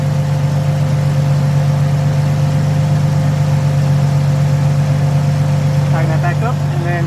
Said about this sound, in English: as you can hear, the car is idling really well